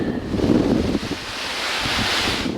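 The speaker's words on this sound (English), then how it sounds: "It is so very windy." Strong gusts buffet the microphone on an exposed mountain trail during a hike in Taiwan, a loud continuous roaring rush that swells and eases without letup and no voices.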